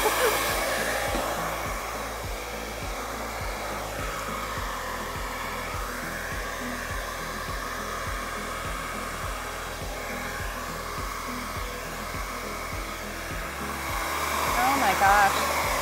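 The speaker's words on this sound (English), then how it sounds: "This hair dryer is awesome." Steady whooshing drone of a hair dryer running nearby, continuous airflow with slight shifts as it moves, a few faint clicks near the end.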